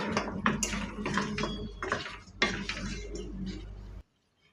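Chicken being stirred with turmeric in a metal pan, a busy run of scraping, clinking spoon-on-pan strokes in an irregular rhythm, close and fairly loud, stopping abruptly near the end.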